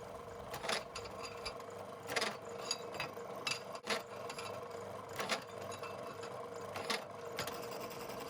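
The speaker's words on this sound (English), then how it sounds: "I return it to my drill and use my deburring tool to remove the sharp edges and produce a nice chamfer on both sides of each hole." A hand drill fitted with a deburring tool chamfers the drilled holes of a steel rear sprocket for a Kawasaki Z1, making repeated short whirring and grinding bursts with brief pauses between holes.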